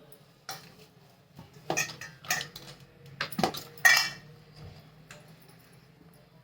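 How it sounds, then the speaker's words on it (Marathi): Knife slicing peeled raw mangoes on a board for a spiced preserved mango snack, a series of close, crisp chopping taps and clinks spaced out in an irregular rhythm over a faint low hum. "आता आपण हे कट करून घेऊ आणि त्याचे काप करून घेऊया"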